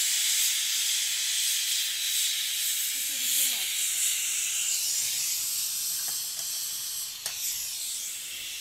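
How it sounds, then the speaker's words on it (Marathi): A pressure cooker holding mutton on a wood-fired stove releases a steady, loud hiss of steam that runs unbroken throughout, with a few faint clicks near the end. "कुकरचं झाकण लावून घेऊ आणि 3-1 शिट्ट्या करून घेऊ।"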